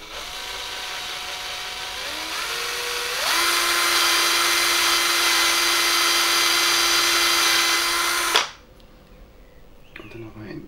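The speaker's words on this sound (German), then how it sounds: "Wenn man so wenig Platz hat, ist es ratsam, den Bohrer rückwärts laufen zu lassen" An electric drill bores into a homemade jerkbait/swimbait fishing lure, whining steadily and close, rising in pitch and loudness after a few seconds, holding a loud, even drone, then cutting off abruptly, leaving faint rustling.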